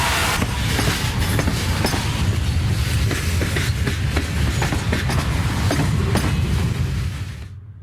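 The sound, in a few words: CSX freight train passing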